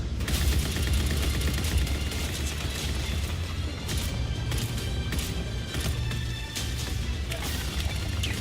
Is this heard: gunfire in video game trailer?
yes